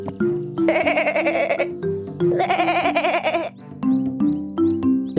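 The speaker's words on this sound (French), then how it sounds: "une petite chèvre affamée apparut devant la jeune fille." A small, hungry goat gives two long, wavering bleats, each over a second long, loud and close over soft, steady musical tones.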